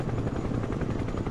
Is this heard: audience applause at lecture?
no